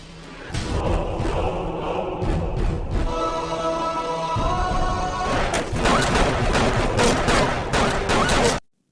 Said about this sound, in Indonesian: Untuk memastikan dia tewas, Kavi pun menembaknya.